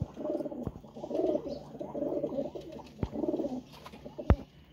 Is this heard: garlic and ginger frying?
no